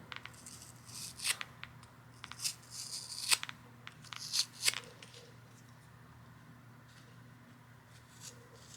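Scissors snip through thick layers of yarn in a few short, quiet cutting and rustling bursts close by, followed by a low background hush.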